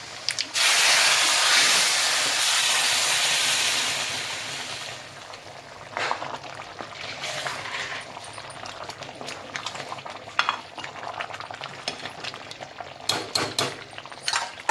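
A hot tempering of reddened garlic, mustard seeds and cumin is poured onto boiled village-style bhaji and sizzles in a loud, steady hiss for about five seconds, then dies down to softer crackles and faint utensil clatter.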